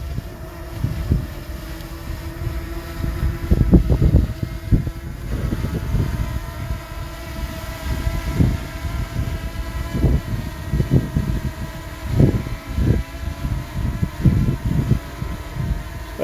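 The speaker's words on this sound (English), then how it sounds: "Hold that button down there. It'll take off, go up about 4 feet." Small camera drone lifting off and hovering about four feet up in gusty Arizona desert wind, a steady low buzz under heavy wind rumble with repeated gust bursts on the microphone.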